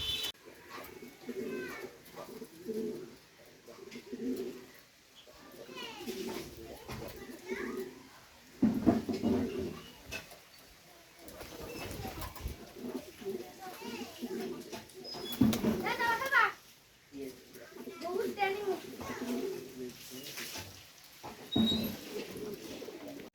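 High-flyer pigeons at a farm coo softly in bursts amid children's chatter and voices nearby, with the cooing recurring throughout.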